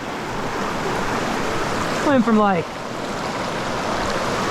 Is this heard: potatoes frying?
no